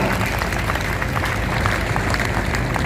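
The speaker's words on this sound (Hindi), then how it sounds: "ताली बजाना है तो ठीक से बजाओ भैया" Audience applause in an Indore stadium during a Ram Navami religious discourse, dense continuous clapping from a large crowd, loud and steady without pause.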